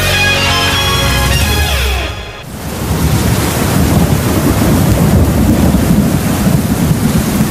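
Heavy rain with rumbling thunder on a radio broadcast, a loud continuous roar of downpour that takes over after a music passage fades out.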